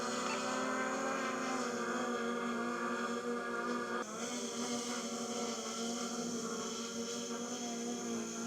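A DJI Mini drone hovers outdoors on a windy day, its propellers giving off a steady, even whine with a slight shift in pitch midway, fairly faint and with no voices over it.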